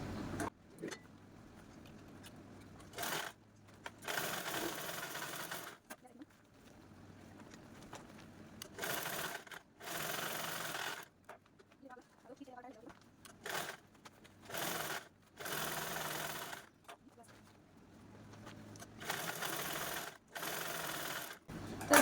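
Sewing machine stitching a leftover blouse fabric piece, running in repeated short bursts of several seconds each with quiet pauses between, close and clear with no talking.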